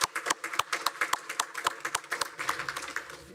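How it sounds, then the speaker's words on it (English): A county board meeting audience claps for Falls Lake Academy in a short, steady burst of moderately loud applause from a room of people. "let's give a round of applause to Falls Lake Academy"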